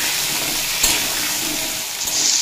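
Papaya pieces fry in oil in a pan over a low to medium flame, giving a close, continuous hissing sizzle with a couple of brief stirring scrapes.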